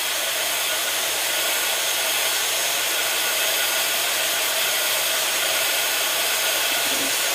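A hair dryer blows steadily and loudly at close range, drying Indian ink doodles and watercolor paint on paper in one unbroken whoosh with no talking.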